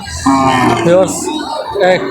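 Young two-toothed bony cattle at a North Bengal livestock market moo loudly and close, two drawn-out calls with a short gap between them, standing out against the market background.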